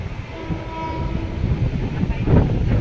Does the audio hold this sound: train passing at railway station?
yes